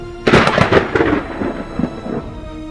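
Thunder erupts in a loud, sharp crack and rolls into a rumbling decay that fades over a couple of seconds, with no voices.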